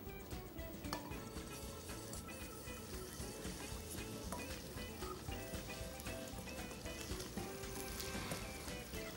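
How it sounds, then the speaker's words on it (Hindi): Garlic paste warming in hot oil before chicken goes in, giving a steady low sizzle with faint liquid trickling, continuous and fairly quiet with no one talking. "लहसुन को जलने मत दीजिएगा, बस थोड़ा सा गर्म हो और उसका फ्लेवर आना शुरू हो"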